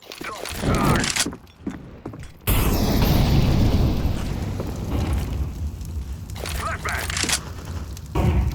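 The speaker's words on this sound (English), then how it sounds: "I'm throwing a grenade." Grenade thrown in a video game, followed by a long heavy booming roar of explosion that sustains and rumbles, preceded by sharp gunfire-like cracks, loud and close.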